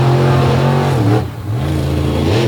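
A big Patrick chassis Chevrolet dirt race car powers across clay, its engine roaring loud and close with a steady harmonic drone that dips briefly mid-way before surging again.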